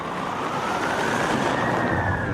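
An ambulance siren wails steadily as the crew rushes a critically injured man to hospital, the tone sweeping slowly over continuous road noise, loud and close throughout with no talking.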